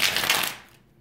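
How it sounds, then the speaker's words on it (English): A deck of tarot cards is shuffled once, up close: a quick, crisp riffle of flicking cards lasting about half a second, then quickly fading to near silence. "Let's give these another shuffle."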